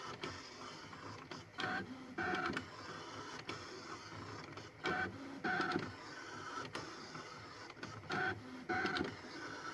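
A Brother Scan-n-Cut machine cuts stickers, its carriage motor whirring in repeated short bursts with pauses between passes, quiet and mechanical, with no voices.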